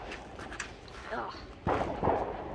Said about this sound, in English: Oh, I see fireworks across the river.